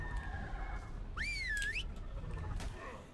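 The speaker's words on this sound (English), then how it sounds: "I am whistling" A player whistles to command a pack of tamed hyenas in Ark Ragnarok, a sharp rising and falling whistle over a steady game background with a faint bird-like call.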